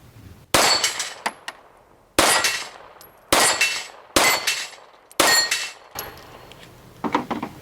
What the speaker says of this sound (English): we'll shoot some of those baby Glock